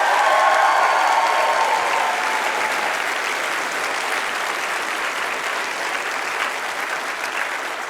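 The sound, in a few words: audience applause for game show contestant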